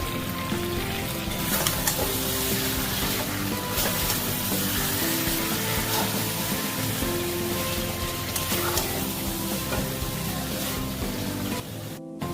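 Chicken and potatoes for a desi chicken curry sautéing in a pan, with a dense, continuous loud sizzle and occasional stirring scrapes, close up and steady throughout, no speech.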